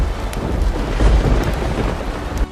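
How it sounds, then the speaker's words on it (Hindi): Heavy rain with a thunderstorm during a fierce storm, a dense close rainfall hiss over deep rumbling thunder that swells in the middle and stays continuous throughout. "अल्लाह ने ऐसा जबरदस्त तूफान भेजा कि आसमान से जोरदार बारिश होने लगी"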